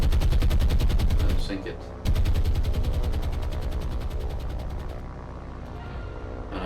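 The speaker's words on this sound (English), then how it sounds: "our Hurricanes are attacking the this old destroyer, well, new destroyer here, seeing that whether we can do enough damage to finally get it down" Hurricane fighter aircraft strafe a destroyer with machine guns in the naval game War on the Sea: loud, rapid, unbroken bursts with a short break partway through, while a voice speaks briefly.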